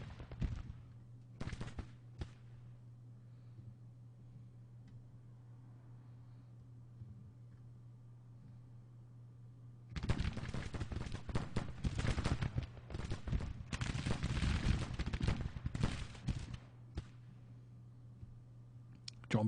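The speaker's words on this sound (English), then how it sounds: "Oh, they've got rifles, okay." Rifle volleys crackle in the Civil War strategy game Grand Tactician: The Civil War. A few faint early shots are followed by a dense, sustained burst of distant rattling fire over a steady low hum.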